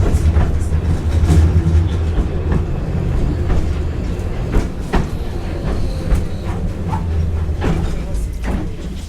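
A tram in Kryvyi Rih rumbles along its line, heard from inside as a loud, steady low rumble with intermittent clacks and rattles from the car, with people talking faintly now and then.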